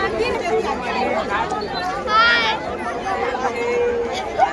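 Dense crowd chatter fills a busy fairground at the Juni Sarovar Mela 2025 in Bemetara, Nawagarh, Chhattisgarh, with many overlapping voices forming a steady, close babble throughout.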